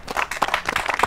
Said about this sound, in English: The children need to clap too.